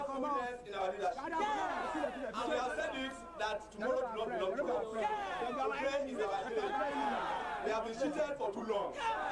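A large student crowd at a rally, many voices chanting and shouting together in a steady, dense roar that continues without a break.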